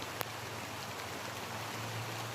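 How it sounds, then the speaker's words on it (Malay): Afternoon rain falls steadily outdoors after a long dry spell, a soft, even hiss of drops with a faint sharp tap near the start. "Syukur hujan. Dah lama tak hujan. Petang ni dia hujan."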